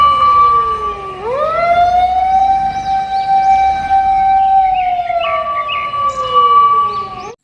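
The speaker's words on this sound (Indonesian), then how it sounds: "yang ini pemadam kebakaran" A red toy fire engine sounds its electronic siren, a loud, close wailing tone that sweeps down, rises and holds, with warbling pitch changes and no talk over it.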